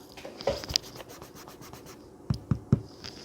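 Hand brushing across a soft cloth gaming mouse pad, a few quiet scratchy rubbing strokes in two brief clusters, close and faint with pauses between.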